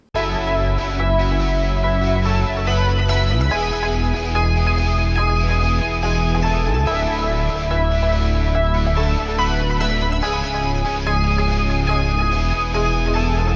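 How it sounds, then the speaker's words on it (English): Loud, dense music with a deep synth bass line under distorted electric guitar, steady and continuous with no voices. "if I combine the bass with the electric guitar, it's gonna sound like this"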